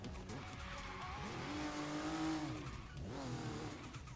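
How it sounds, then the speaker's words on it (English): Tires skid across sand in the racing game Forza Horizon 3, a sustained screeching slide with a revving engine, steady and close for about four seconds. "I left skid marks on the sand."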